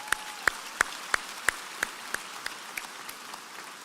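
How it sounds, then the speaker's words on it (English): Sparse applause for a graduate at a San Jacinto College commencement ceremony, a handful of distinct, evenly spaced claps fading gradually over a faint background hum. "Let's give Gerald another round of applause."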